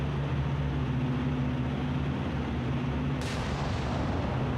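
Naval gunfire in War on the Sea, a constant heavy rumble of battleship guns and battle noise with no distinct single shots and a bright burst near the end.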